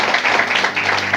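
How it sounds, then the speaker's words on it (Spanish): A church congregation applauding loudly, a dense, sustained wash of many hands clapping that fills the room evenly from start to finish. "Aplaudile fuerte al Señor"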